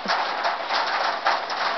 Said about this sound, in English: No, because it's too much rain right now.